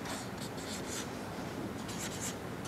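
Pen scratching steadily across paper as someone writes a short list, a continuous close, dry scraping texture with small strokes and no talking.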